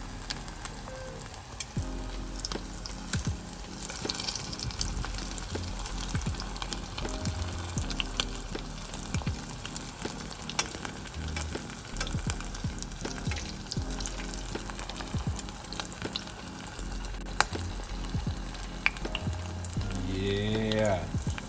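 Salmon bites sizzle and crackle steadily in a hot frying pan, a continuous close hiss with scattered pops and occasional scrapes of a utensil, lasting throughout with no talking.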